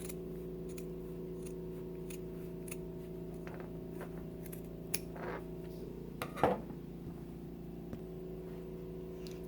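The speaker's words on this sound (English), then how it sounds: "I'm going to trim it up some more." Scissors trim the fabric of a zipper bag, with sparse, faint snips and small clicks over a steady machine hum, ending in a slightly louder cluster of cuts.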